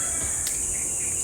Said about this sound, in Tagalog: Grabe yung tunog ng mga insekto.